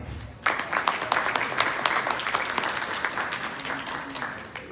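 Audience applause at the VI Eurasian Forum of Auditors and Accountants in Baku, Azerbaijan: a dense, steady burst of many hands clapping that starts abruptly after a brief pause and keeps going at an even, fairly loud level.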